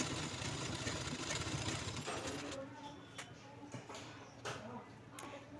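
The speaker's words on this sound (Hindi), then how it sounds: "सबसे पहले मैं इलास्टिक पे ही सिलाई लगा रही हूँ।" A sewing machine stitching elastic onto fabric for a palazzo waistband, a close steady whirring hum that slows and breaks into short bursts near the end, with someone talking in Hindi over it.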